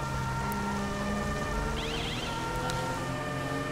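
A police car siren in the video game GTA 5 wails in a quick rising-and-falling pattern for about a second, set against a steady engine-like drone and game background noise.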